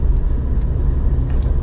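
Steady low engine hum and road rumble inside a new Lada Niva while driving, even and moderately loud throughout with no voices.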